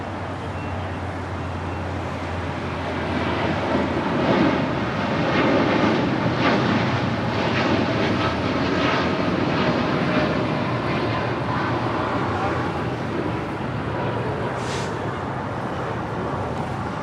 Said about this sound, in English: United Airlines flight 1897 heading to Chicago O'Hare, 787-10 Dreamliner